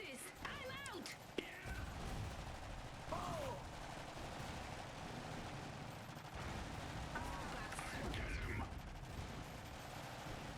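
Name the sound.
cannon fire in video game Iron Harvest 1920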